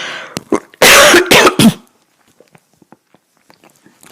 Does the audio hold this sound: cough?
yes